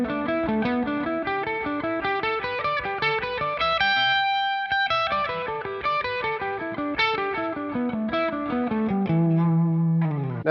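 Distorted electric guitar runs a steady descending pentatonic sequence in six-note groups, loud and continuous with effects coloring, brief sustained notes near the middle, and a low chord ringing out at the end.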